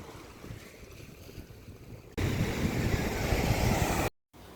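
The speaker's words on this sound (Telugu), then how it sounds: "బీచ్ దగ్గరికి అయితే వెళ్ళాను" Waves wash onto the beach at a luxury seven-star hotel in Dubai, a steady surf roar with wind rumble that grows louder and fuller partway through before cutting off briefly.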